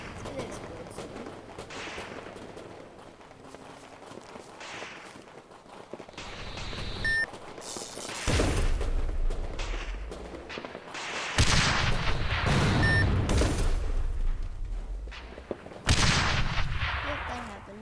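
Explosions in the Teardown video game on a Mount Everest map: several loud, broadband booms with crackling debris roll in over steady game noise, with a voice talking through parts of the clip.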